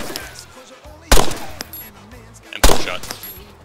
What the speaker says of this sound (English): M4 shot.